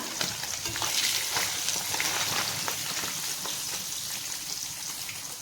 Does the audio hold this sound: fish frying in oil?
yes